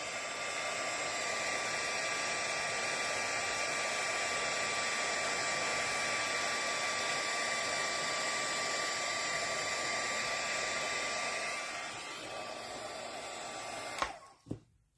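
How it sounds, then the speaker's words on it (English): A heat embossing tool blows hot air in a steady loud whir with a high whine, running continuously for about eleven seconds before winding down, followed by a couple of clicks. "So you need a heat tool."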